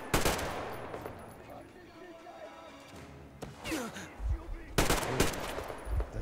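Shotgun blasts in the video game Metro Exodus, several sharp loud bangs in an irregular sequence with chaotic in-game noise between them and a voice talking.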